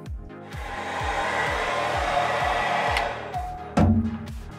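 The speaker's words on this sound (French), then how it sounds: "on va prendre un sèche-cheveux pour gagner du temps" A hair dryer blows a loud, steady whooshing whine while drying cleaning product on a glass shower wall, punctuated by regular low rhythmic thumps and a sharp clunk near the end.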